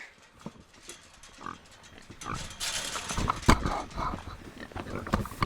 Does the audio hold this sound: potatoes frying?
no